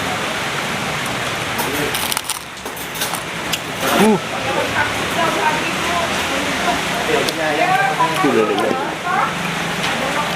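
Light drizzle falls steadily around an outdoor food stall, a soft continuous patter under clinking and a person speaking briefly.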